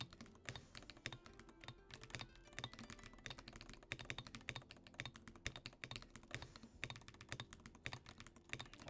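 Rapid, continuous typing on a new, very responsive gaming keyboard, with dense close-up key clatter running without pause and no voices.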